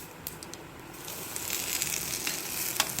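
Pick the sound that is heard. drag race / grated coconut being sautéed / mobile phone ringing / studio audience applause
grated coconut being sautéed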